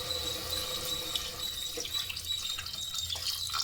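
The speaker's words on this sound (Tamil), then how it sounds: "இப்போ மட்டன் இந்த அளவுக்கு வதங்கினதுக்கப்புறமா தண்ணி ஊற்றிக்கலாம்." Water running steadily into a pan of sautéed mutton for a home-cooked mutton kulambu, a continuous close splashing pour with no talk.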